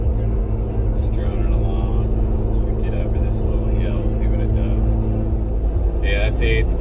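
A Jeep JL fitted with a Borla cat-back exhaust cruising at about 60 mph in eighth gear, a steady low droning exhaust and road rumble heard from inside the cabin without a break.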